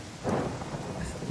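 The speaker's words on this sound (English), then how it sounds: "I hear thunder." In the fantasy video game Pathfinder: Kingmaker, a rumble of thunder swells up briefly over a bed of steady rain, then fades back to the downpour.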